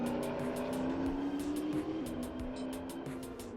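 McLaren 720S supercar engine humming steadily from inside the cabin while driving, a constant tone with slight shifts in pitch, fairly quiet and with no talk over it.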